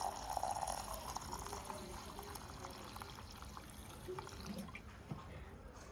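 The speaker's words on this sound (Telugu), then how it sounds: "ఇప్పుడు వాటర్ పోసుకుందాం" Water poured into ragi flour, a soft steady trickle and splash that runs close and fairly faint for several seconds, easing off toward the end.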